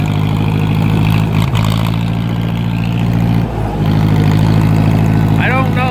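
A 2010 John Deere engine running steadily at a loud, close idle with a deep, even drone, one brief dip partway through.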